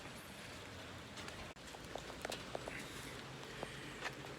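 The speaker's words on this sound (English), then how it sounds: "And it's raining." Steady rain hisses outdoors, with scattered louder drips and patters landing nearby at an even, fairly soft level.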